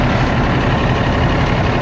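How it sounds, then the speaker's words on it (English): A Kenworth T660 truck's diesel engine running just after being fired up, a loud, dense, steady low rumble close by with no voices. "we fired up the motor here"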